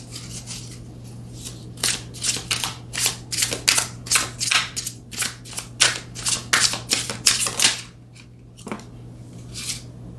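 Tarot cards are shuffled in quick bursts of crisp riffling and slapping, a dense run of rapid flutters that pauses briefly near the end before one last shuffle, close and clear over a steady low hum.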